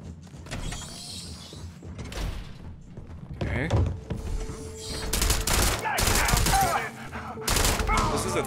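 Gunfire from a three-round burst weapon in the Starfield video game, several sharp clustered bursts with mechanical clanks amid continuous game background noise.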